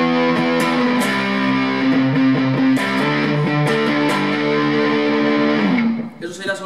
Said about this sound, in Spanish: Ahí tenemos el ampli casi a la mitad de la distorsión